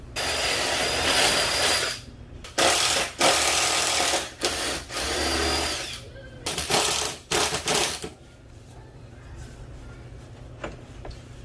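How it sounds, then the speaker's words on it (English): A power drill whirs in several bursts of varying length, drilling holes in the rear fender of a 2015 Subaru WRX STI, starting and stopping repeatedly, then falls quiet after about eight seconds. "go ahead and drill"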